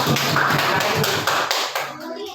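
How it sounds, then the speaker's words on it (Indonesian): A class of students claps together in a classroom, giving a quick burst of fairly loud rhythmic hand claps that trails off after about two seconds. "Ya, tepuk tangan dulu. Tepuk tangan."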